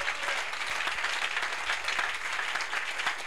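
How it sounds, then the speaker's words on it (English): A church congregation at a charismatic service claps together for Jesus, a dense, steady wash of many hands close and loud throughout, with no voices standing out. "Can you clap for Jesus?"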